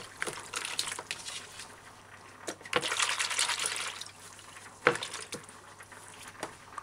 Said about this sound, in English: I get a bowl, add water.